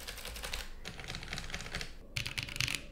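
Rapid typing on a mechanical keyboard fitted with Holy Panda tactile switches, a close, steady patter of soft clacks as keys bottom out, heard alone.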